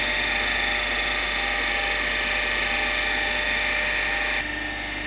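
A DC shunt motor in a lab runs steadily at its rated 1500 rpm, giving a loud, constant high whine and hum that shifts slightly near the end.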